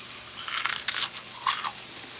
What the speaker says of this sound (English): Yes, you heard me chew it.